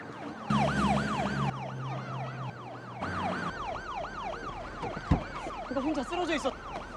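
A wailing ambulance siren sweeps up and down repeatedly, fairly close, over traffic noise, with a brief thump and some muffled voices near the end, in a TV drama scene.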